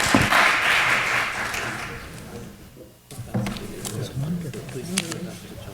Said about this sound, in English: Let's give a big round of applause for them